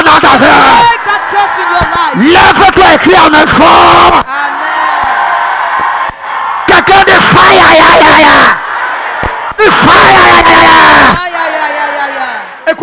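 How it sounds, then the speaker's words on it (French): A church congregation at a worship service shouts loudly in long, sustained bursts of massed yelling and whooping, broken by short lulls where a preacher's voice carries over the room. "Lève-toi et crie en même fort."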